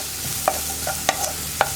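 Onion being stirred as it fries for a ridge gourd stir fry, a constant sizzle broken by three distinct scraping strokes of a spoon against the pan, close up and without talk.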